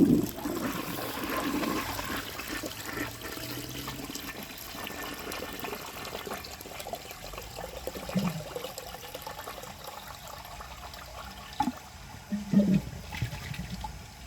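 A 1951 Crane Neuday toilet flushing a grocery bag: a rushing water swirl that fades into trickling and refilling, with a few gurgling bursts near the end, moderately close and with no talk.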